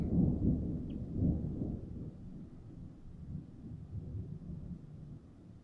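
A distant thunderclap from a storm near Joensuu, Finland, rumbles low and heavy at first, then slowly fades into a long, softer grumble. No one speaks.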